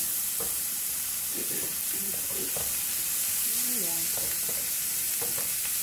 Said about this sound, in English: Okay, so my bacon is super crispy now. I'm adding in all the onions.